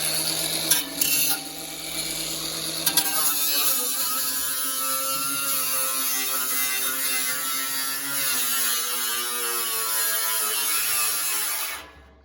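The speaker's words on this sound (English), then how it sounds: "This just seems the easiest way with a grinder." An angle grinder cuts out the middle of a homemade British-built Indian tandoor, a steady loud whine with rising and wavering harmonic tones running for about nine seconds after a few short bursts at the start, then cutting off abruptly.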